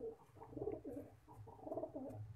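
A domestic pigeon, an old pedigree flier, coos softly in a few repeated throaty phrases, close but quiet, with no voices over it.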